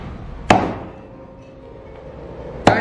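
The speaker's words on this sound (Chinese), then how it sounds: "砍掉脚趾" A cleaver chops the toes off a bullfrog on a cutting board, giving two sharp, isolated whacks about two seconds apart over quiet kitchen background.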